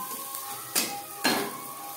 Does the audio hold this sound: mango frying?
yes